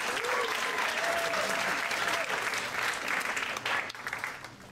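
Loud, sustained applause with whoops from a poetry night audience in the Blue Room, a continuous wash of clapping that dips slightly near the end.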